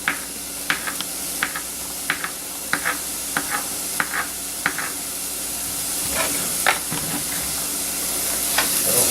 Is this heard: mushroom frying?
yes